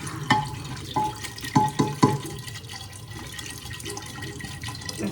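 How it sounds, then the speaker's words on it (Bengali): Water poured into a cooking pot of stirred ingredients in a home kitchen, a few splashing pours and drips up close, then a softer trickle. "এবার এতে সেদ্ধ হওয়ার মতো জল দেব।"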